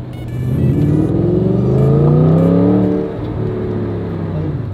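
A supercar engine revs up loudly in a parking lot, its pitch climbing smoothly and then settling back to a steady idle rumble, close by.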